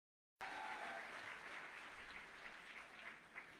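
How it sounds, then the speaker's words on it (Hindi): Dense applause from a crowd at a corporate summit starts abruptly after a brief silence and continues steadily at full strength, with no talking. "इनके लिए जोरदार ताली बजा दीजिए एक बार सर"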